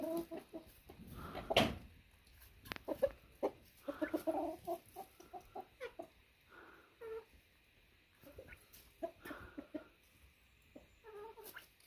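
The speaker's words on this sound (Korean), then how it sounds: "둘이 만만치가 않아요 지금 이 닭들이." Hens squabble over pecking order, clucking in short irregular bursts and squawks close by, with sharp pecking scuffles between the calls and a quiet background between outbursts.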